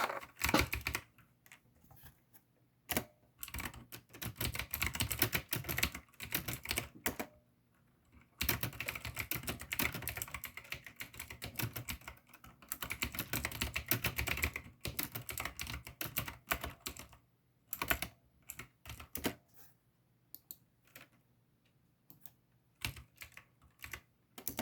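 Rapid clattering keystrokes on a computer keyboard, typed in bursts with short pauses between, close and fairly loud, no voices.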